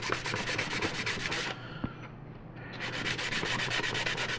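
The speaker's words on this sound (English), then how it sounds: "wet sanding is very messy, by the way." Wet sanding on a primed 1/8 scale Black Moth Heavy model kit part, a steady rhythmic rasping scrub close up that pauses briefly in the middle before resuming.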